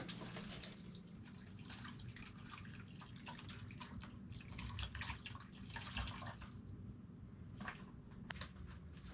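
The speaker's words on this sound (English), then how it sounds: "I'm giving them all the water this time anyway" Water trickles and drips continuously at close range, with scattered splashes and patters as it's poured over Jiffy peat seed-starting pellets.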